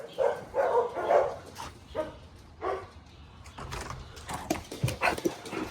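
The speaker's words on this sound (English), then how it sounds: "So let's let the doggies out and let them run amok." Several dogs bark as they are let out to run around a yard, a mix of deep woofs, whimpers and yips coming in bursts at moderate distance, some overlapping.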